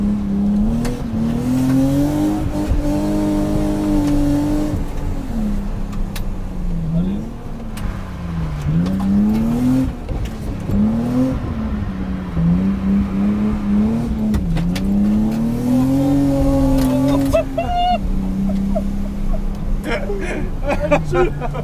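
A turbocharged BMW E36 325i is driven hard, its engine revving and dropping repeatedly with gear changes and some tyre noise, loud and continuous, while people talk inside the car.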